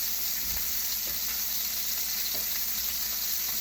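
Steak sizzling steadily in a hot pan, a continuous bright hiss with occasional soft pops and spatters, close and alone with no talking.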